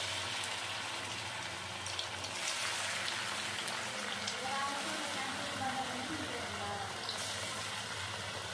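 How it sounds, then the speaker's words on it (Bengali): Stuffed duck-shaped rice-flour pitha frying in hot oil, giving a steady, dense crackling hiss that carries on without a break, with faint bubbling beneath. "এখন আমি তেলে পিঠেগুলো ভেজে নেব।"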